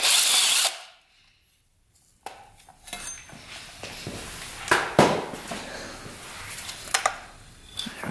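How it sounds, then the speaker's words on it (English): Tools work on an old barn-find mini bike engine that hasn't run in over 20 years, removing its valve cap: a loud opening burst, a short silence, then scattered close metallic clicks and clanks. "Let's first get our valve cap off here."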